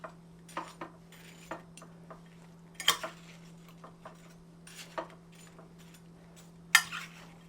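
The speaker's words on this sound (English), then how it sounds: "Get this a little stir." A spoon stirs a red fruit salad of strawberries and watermelon with a little sugar in a bowl, giving soft scattered clinks and taps close up at an irregular pace, with no talk.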